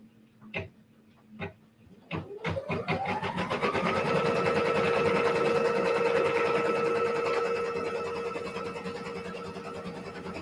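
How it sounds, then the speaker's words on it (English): An embroidery machine stitches a batting placement line in a 5x7 hoop: a few separate clicks first, then the motor whirs up into a steady, loud, continuous hum of rapid stitching that holds for several seconds. "It says stitch the batting placement line. All right. Let's do it."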